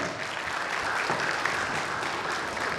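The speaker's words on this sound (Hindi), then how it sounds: "जोरदार ताली" An audience at a ceremony honouring an IAS officer breaks into loud, sustained applause, a thick, even wash of many clapping hands that holds steady throughout without pause.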